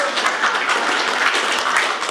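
An audience at a talk claps, a dense, steady burst of applause from many hands that holds at an even level throughout with no voices over it.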